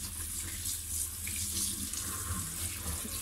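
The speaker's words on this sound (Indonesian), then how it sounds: "Ini kita cuci bersih helai per helai." Lettuce leaves rinsed one by one under a running kitchen tap, a steady close hiss of flowing water with soft splashing as the leaves are handled, no talk.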